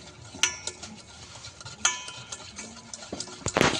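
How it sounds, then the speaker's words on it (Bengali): Ghee, oil and sugar mixed together in a bowl, scraped and stirred with soft clinks and ticks of a utensil against the bowl, sparse at first and then a brief burst of busier scraping near the end. "ঘি, তেল আর চিনি একসঙ্গে মিশিয়ে নেব।"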